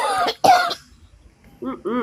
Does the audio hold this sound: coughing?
yes